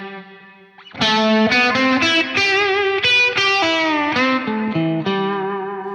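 Guitar through a Source Audio Nemesis analog-style delay and Ventris plate reverb, a sustained note giving way to a run of picked notes with repeating echoes and a washy tail, loud and alone.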